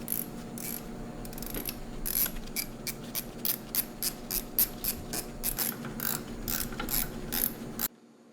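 Ratchet wrench clicking in rapid repeated bursts while removing gearbox bolts on a Haas VF2 spindle, close and loud over a steady machine hum, ending abruptly.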